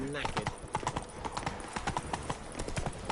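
Roach the horse trots in The Witcher 3, hooves clopping in a quick even rhythm under a speaking voice.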